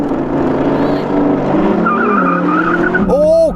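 A Porsche Cayenne Turbo GT and an Audi R8 launch side by side in a drag race, engines roaring loudly and close with a rising tone, then a brief tyre screech near the end.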